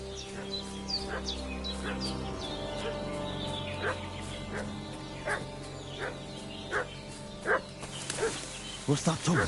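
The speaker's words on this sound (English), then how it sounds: "What's that dog making such a fuss about?" In the video game Kingdom Come: Deliverance 2, a dog barks repeatedly at a distance in sharp, irregular yaps over ambient background and birdsong, while a voice talks quietly underneath.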